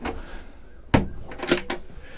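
Drawers slide open and shut beneath a bunk in a Viknes 10 yacht cabin at a boat show, a couple of quick wooden thuds and scrapes close by.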